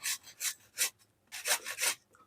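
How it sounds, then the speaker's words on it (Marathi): Indian gooseberry (amla) rubbed over a small kitchen grater gives rhythmic rasping strokes, about seven close, crisp scrapes in two groups with a brief pause between them. "अशा प्रकारे ना असे छान किसून घ्यायचे आपल्याकडे किसणी असेल ना छोटी मोठी त्याने छान असं त्याचा किस करून घेते"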